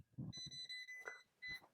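A Klein Tools NCVT-1P non-contact voltage tester emits a series of short, close electronic beeps in quick succession after a few soft handling taps, with brief gaps between them.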